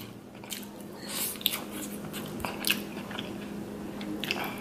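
Close-up biting and chewing of king crab legs and potato from a seafood boil, with soft crunches and wet squishes in a steady run of mouth sounds.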